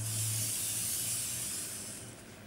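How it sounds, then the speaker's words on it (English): Silicone spray hisses from an aerosol can as it is squirted into cups for a flip cup paint pour, a close, steady spray lasting a couple of seconds before tapering off. "I'm going to be squirting these cups with a little bit of the silicone spray"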